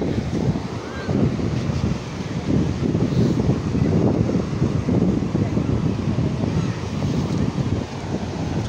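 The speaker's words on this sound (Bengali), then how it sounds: "দেখেন পানির যেই গর্জন" Water roars and waves crash near a large bridge in Langkawi, Malaysia, a loud, steady, broadband rush that never lets up, with wind buffeting the microphone throughout.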